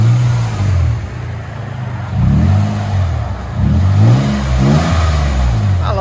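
A 1995 Nissan Cedric with a 3.0L VQ30 V6 and DTM exhaust revs repeatedly nearby, several rising blips with a throaty low exhaust note between idle dips.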